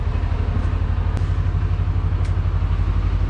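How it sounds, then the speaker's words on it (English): The engine of a Toro Wheel Horse 520H garden tractor, choke on, cranks on jumper cables with a loud, steady, pulsing churn throughout that never catches. "So we're gonna try and crank this again and see what happens."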